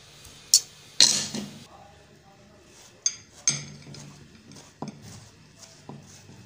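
A knife cutting peeled mango into small pieces: a few sharp clinks and knocks of blade on board, uneven and close, with quieter cutting sounds between them.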